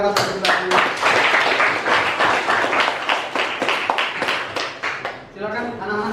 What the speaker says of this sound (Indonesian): Selamat tepuk tangan yang keras bagi kita semua